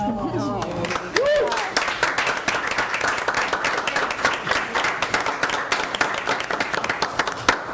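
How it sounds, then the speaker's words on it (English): An audience at a village council meeting gives a steady round of clapping that continues for several seconds, a dense patter of many hands in a room after brief speech at the start. "offer Judy a round of applause"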